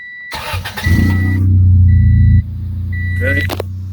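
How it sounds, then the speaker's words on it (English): A 1991-95 Honda Civic engine cranks and catches, then settles into a steady idle, loud and close, with a faint high electronic tone and some clatter around it. "All right, guys, so we're gonna turn on the car."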